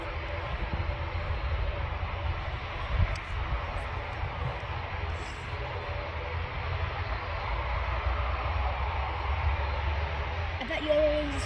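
A Ryanair airliner at Manchester Airport on a very hot day gives off a steady, broad engine roar that holds for the whole stretch, moderately distant, with a faint low rumble beneath it.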